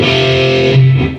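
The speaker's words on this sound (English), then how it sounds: "we're going to hit the open 4th and 3rd string." Distorted electric guitar rings out on open fourth and third strings in a heavy riff, a loud sustained chord that shifts to a lower note near the end and fades.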